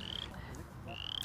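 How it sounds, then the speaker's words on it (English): Chorus frogs call in a restored prairie near Chicago, faint rising trills repeating twice at a distance over a quiet outdoor background. "If you can hear past the chorus frogs"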